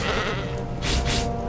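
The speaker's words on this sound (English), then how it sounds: "And it's a goat." A goat bleats in the video game Path of Exile, two short, loud bleats close together near the end over a dense bed of game sound.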